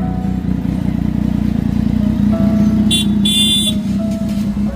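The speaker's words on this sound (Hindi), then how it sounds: "हॉर्न मार के चेक कर रहे हैं काम कर रहा है कि नहीं भाई" A new superbike's horn sounds in two short honks over a loud, steady engine idle heard close up.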